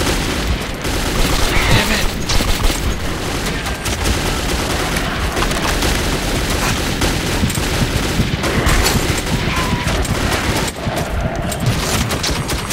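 Sustained automatic gunfire in the video game Metro 2033, dense rapid bursts and booming shots filling the scene loudly and continuously until the weapon runs dry, with faint voices mixed in.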